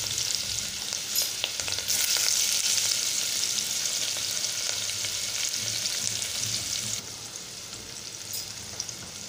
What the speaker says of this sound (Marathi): आता दुसऱ्या ह्याच्यात कांदा घालत आहे।